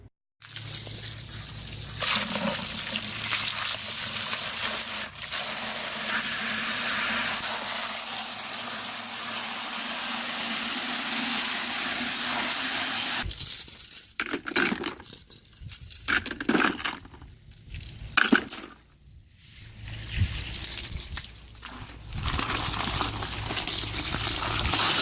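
Predator traps being washed in a bucket of soapy water, with steady sloshing and metallic clinking that continues throughout, then breaks into choppier splashes and brief pauses toward the end.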